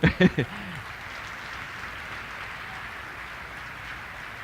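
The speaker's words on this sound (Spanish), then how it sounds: "Dale un aplauso al rey hoy." Audience applause at a motivational talk, a steady broadband clapping wash that holds for several seconds after a few brief loud bursts of voice at the start.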